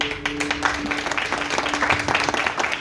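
A church congregation applauds during a Portuguese-language service, a dense continuous patter of many hands clapping at moderate volume with a faint steady tone underneath.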